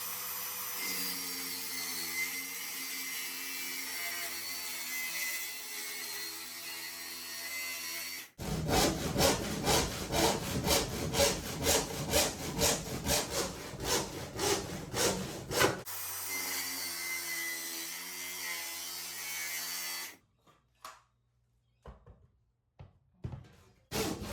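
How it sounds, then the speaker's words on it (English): A hand saw cuts through wood during a vintage caravan restoration, a run of rapid rhythmic rasping strokes between stretches of steadier mechanical noise, ending in sharp isolated knocks. "then come across to about this line and then hand saw the rest"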